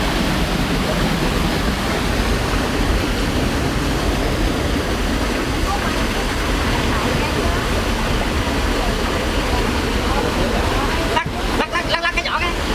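Water gushes steadily in a loud, continuous roar from a sluice releasing a strong flow at a crab farm, with a few clattering knocks near the end.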